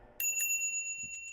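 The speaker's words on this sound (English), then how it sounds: "Ooh, that's a nice bell." A bright bicycle-style bell rings sharply twice near the start, then its pure metallic tone hangs and slowly fades, close and clear with no talk.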